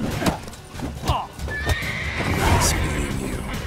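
Horses in The Witcher 3 neigh loudly in several whinnies, mixed with clip-clop hooves and game noise, while a person talks over them.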